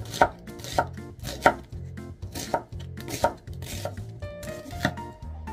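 Onion being chopped by hand on a board, a rapid close series of sharp knife thuds in an uneven rhythm with short pauses.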